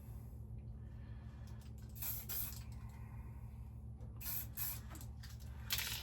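Duracoat paint spraying onto an AK47 Krinkov airsoft gun's bolt assembly, heard as short hissy bursts over a steady low hum, with a burst near the start and a cluster of bursts toward the end, close by.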